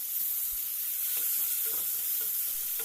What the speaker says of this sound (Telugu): ఇందులో మనం కట్ చేసి పెట్టుకున్న టమాటాలను వేసుకొని కలుపుకోండి